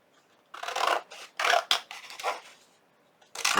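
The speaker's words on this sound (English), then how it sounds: "we're going to bring in our little mini Fisker pinking shears, and we're going to trim off the ends" Small Fiskars pinking shears trim the ends of paper tickets, giving several quick crisp snips close by, separated by short pauses.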